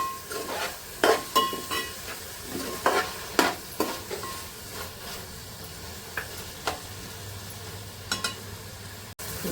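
Chopped coriander and tomato frying with ginger-garlic paste in a pan, repeated scraping stirs and clacks of a utensil over a continuous sizzle, busier at first and sparser later, no talk.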